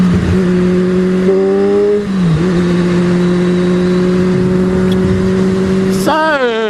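Kawasaki Z1000 motorcycle accelerating hard, a loud, steady engine drone that briefly drops and then climbs, with a rising rev near the end, heard close and alone.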